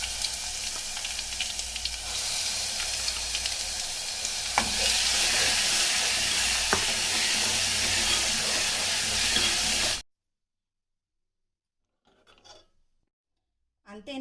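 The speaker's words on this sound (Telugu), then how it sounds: "మనం మిక్సీ పట్టుకున్నది పుదీనా పచ్చడి వేయాలి" Ground mint chutney frying in a pan with curry leaves and turmeric, a steady loud sizzle with scraping stirs for about ten seconds, then silence with a couple of faint sounds.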